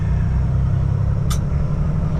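A semi truck rumbles loudly and steadily in the cab as it is put in gear to pull away, a dense low engine drone with one brief click partway through and no talk.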